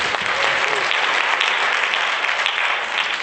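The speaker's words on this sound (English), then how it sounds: "Give him a round of applause." Applause from an audience at an Africa Day 2017 gathering, a dense steady wash of clapping that fills the whole stretch at full strength with no voices on top.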